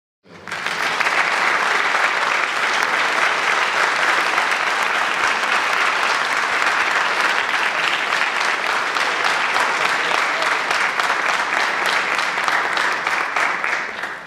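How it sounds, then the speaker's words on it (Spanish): An audience applauds at the closing session of a congress, with dense, even clapping that holds at a steady, loud level for about fourteen seconds before stopping abruptly, and no speech over it. "Es un regalo cerrar contigo este congreso, así que un aplauso"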